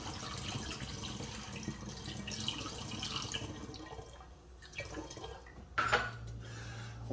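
Homemade blackberry wine pours steadily off its sediment into another vessel, a continuous liquid trickle and splash that fades partway through, then a brief louder gurgle near the end.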